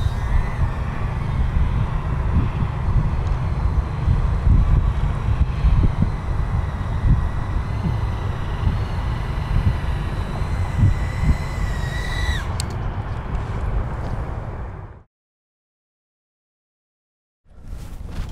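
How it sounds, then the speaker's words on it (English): Strong outdoor wind buffets a microphone near a small quadcopter drone, a heavy rumbling roar that persists for about fifteen seconds, with a faint high whine rising near the end before sudden silence and a return of the rumble. "Alright, super windy."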